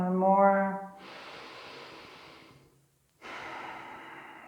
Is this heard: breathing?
yes